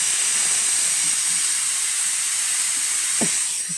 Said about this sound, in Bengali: প্রেশার কুকারে দেখো আমি সিটি বার করছি